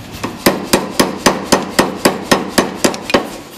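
Blacksmith's power hammer forging a slit iron bar, a loud close series of about fourteen sharp metallic blows in a steady rapid rhythm, each with a brief ringing decay.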